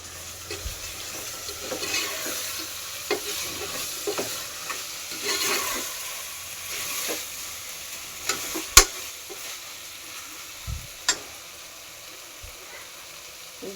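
Onions and tomatoes sauté together with mutton in a pot, giving a continuous low sizzle with intermittent stirring scrapes and a few sharp clanks of a spoon against the pan.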